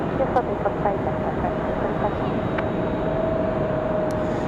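Boeing 787 Dreamliner departing runway 5 left at Raleigh-Durham airport, a broad distant jet roar rumbling steadily beneath people talking.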